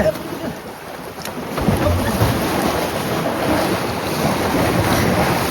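Strong wind roars steadily across the microphone aboard a fishing boat at sea during line fishing for parrotfish and reef fish, with the wash of waves beneath a constant, close buffeting gust.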